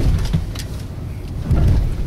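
A Ford Raptor SVT truck crawls over rough off-road terrain, its engine a low steady rumble with bumps and thuds from the suspension soaking up the ground, plus brief bursts of wind or gravel noise.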